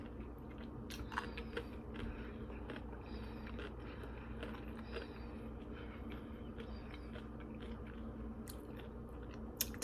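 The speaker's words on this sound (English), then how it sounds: "Taking me a long time to chew today" Someone chewing a mouthful of homemade garden salad, with crisp crunching and biting sounds repeating steadily and close up against a faint kitchen room background.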